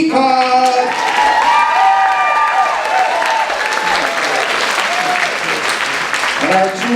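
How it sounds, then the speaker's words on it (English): Theater audience applauding during cast introductions at a community players' dating game show, dense sustained clapping, loud and close, with voices speaking over it. "And our two main contestants tonight, big round of applause for Liam Del Hopper."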